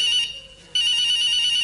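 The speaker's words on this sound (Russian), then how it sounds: "Мама звонит, я же не могу не ответить маме." A mobile phone ringtone rings loud and close at a comedy stage show, a bright repeating electronic tone that stops for a brief moment and then starts again.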